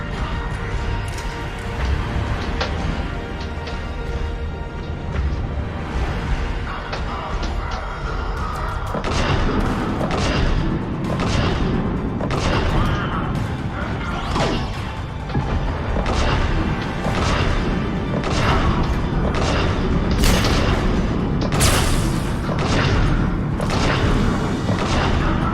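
The Atlas mech in Mass Effect 3 takes gunfire and explosions. Loud, dense booms, thuds and shots pound it repeatedly for over twenty seconds, with rapid sharp impacts growing more frequent toward the end.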